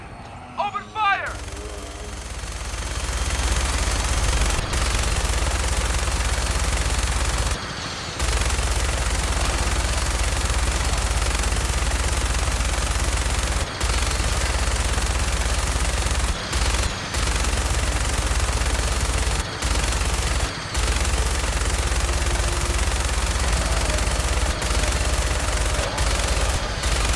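Fallout 4 firefight with sustained automatic gunfire rattling almost continuously, loud and dense, with brief gaps between bursts and game voices calling out over it early on.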